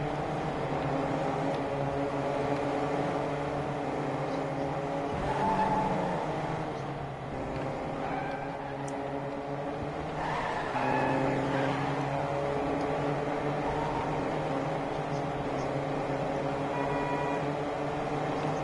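Race cars in a Fortnite Formula 1 style Grand Prix of France roar past with rising and falling engine whine, several passes layered over each other, loud and continuous with occasional tire skids.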